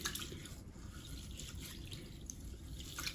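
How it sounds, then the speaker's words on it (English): Basmati rice grains being gently rinsed by hand in water, giving a quiet, steady wet swishing and dripping with small splashes throughout, close and soft with no voices. "we have to continue rinsing until the water becomes clear"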